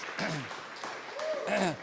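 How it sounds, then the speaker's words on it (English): Scattered audience clapping at a school district meeting, fairly faint and sparse, with voices and cheering heard over it. "she deserves a round of applause"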